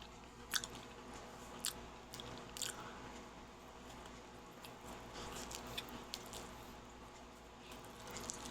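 Pizza is chewed close to the microphone with soft, irregular crunches and wet mouth sounds spread across several seconds, quiet against a low steady background hum.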